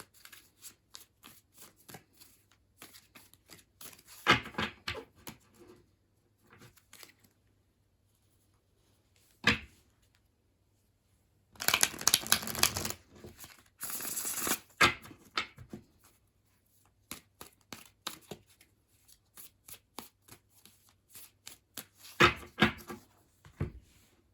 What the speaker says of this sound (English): me give it a good shuffle here.